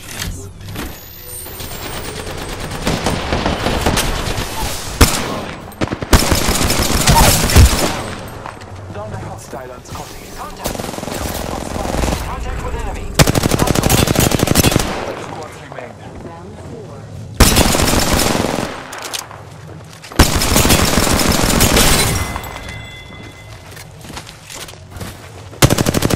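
Gunfire in the video game Apex Legends comes in loud, repeated automatic bursts several seconds long, separated by quieter gaps.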